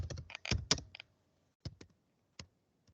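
A rapid cluster of laptop key presses clicks close by, followed by a few isolated, evenly spaced taps with pauses between them and no voices.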